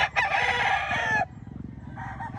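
A rooster crows once, loud and close, with a long harmonic call that stops abruptly, then a shorter second crow starts near the end, over a steady low murmur of a crowd at a gamecock expo and auction.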